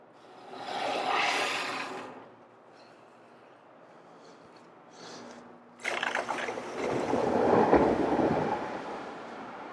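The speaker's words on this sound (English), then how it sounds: "we're gonna fill the bottom tank" Water rushes into the bottom tank of a 750 brine maker in two loud, broad washes, with a quieter stretch between them.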